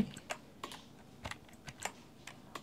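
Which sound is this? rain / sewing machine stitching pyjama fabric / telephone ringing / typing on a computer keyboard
typing on a computer keyboard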